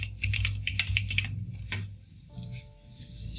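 Computer keyboard keys clatter in a quick burst of close typing, then a short pause and a few scattered keystrokes, with faint background hum and no talking.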